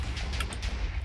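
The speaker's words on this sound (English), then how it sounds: "you heard all those multiple explosions despite there only being 3 TNT" Dense rumbling blasts of TNT going off in a video game, several explosions overlapping into one continuous heavy roar with sharp cracks on top, loud and close.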